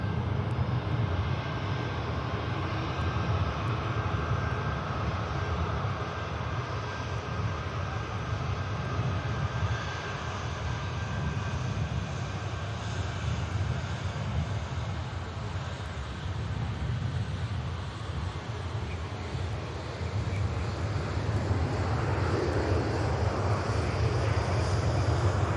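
An Airbus A321 jet lands at Manchester Airport, its engines a continuous, fairly distant roar that swells and eases slightly over the stretch, heard alone without voices.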